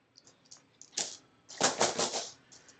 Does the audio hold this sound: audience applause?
no